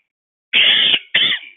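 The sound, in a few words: cough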